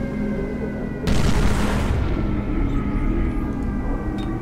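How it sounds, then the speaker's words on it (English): A grenade blast in a shooting video game erupts as a sudden loud, broad boom that rolls on for about a second, then fades into a lingering rumble of game ambience. "See if I can just use a grenade"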